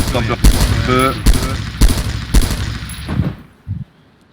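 Rapid bursts of gunfire crack repeatedly at close range in the video game DayZ, layered with game-like effects, then trail off into quieter sounds near the end.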